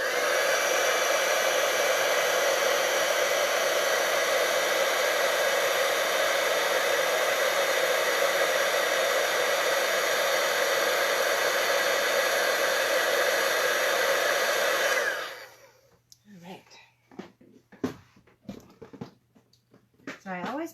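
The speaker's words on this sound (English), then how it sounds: "we'll plug in our heat tool." A heat tool for card making blows a loud, steady whooshing hiss for about fifteen seconds, then cuts off, leaving light handling clicks and rustles.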